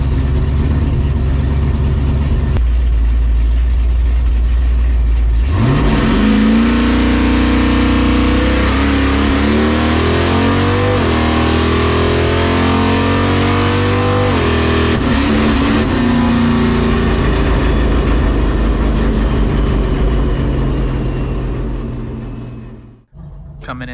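A Chevrolet Nova drag race car launching and accelerating down a Nevada drag strip, engine loud and close, climbing through sharp gear changes before fading away at the end.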